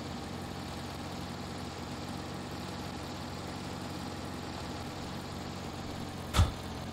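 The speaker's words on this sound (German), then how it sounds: "Es könnte sein, dass es wirklich von so einem Motorroller oder so eine scheiße Motor ist" A small scooter-like engine idles steadily in the video game The Long Drive, with a buzzing, droning hum throughout, broken near the end by one sharp, loud click.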